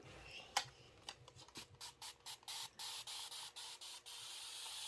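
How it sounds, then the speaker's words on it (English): A Mrs. Bobbins spray bottle spritzes fabric during pressing, starting with a few separate hissing squirts, then speeding into a steady rhythmic run of close, quick sprays, each a short airy burst. "All my spray bottles are great in the beginning."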